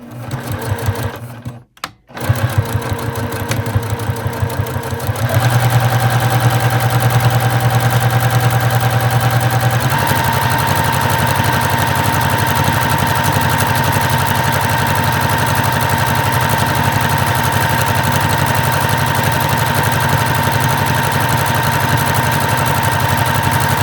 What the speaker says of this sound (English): And we're going to go sew this right inside of the edge.